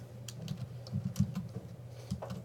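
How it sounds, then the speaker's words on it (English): Quick bursts of keystrokes on a computer keyboard in a lecture room, close and fairly soft, with irregular clicking rhythm over a low background hum. "Let me type it in."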